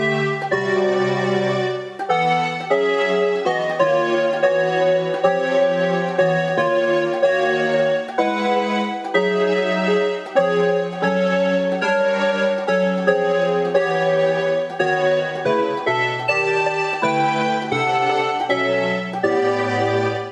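A chord part, voiced in fifths on a SynthAxe, plays as a steady run of sustained, smoothly shifting synth chords, loud and continuous with a brief dip near the two-second mark, no voices.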